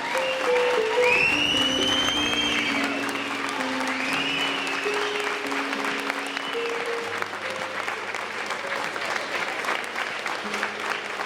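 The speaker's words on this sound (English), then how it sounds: "Let's give Anthony a nice round of applause." Wedding guests clap at a reception after a best man speech, a loud sustained round of applause with a few whistles and tonal sounds riding over it, gradually settling but continuing to the end.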